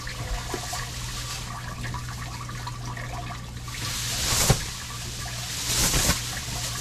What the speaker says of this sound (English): I wonder if I put this in the hot water